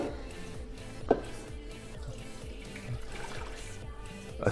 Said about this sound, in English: so let's get this water in.